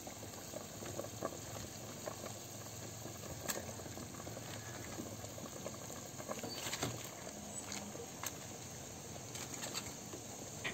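A pot of pork pata nilaga boils steadily, a dense, continuous bubbling and popping with no speech over it.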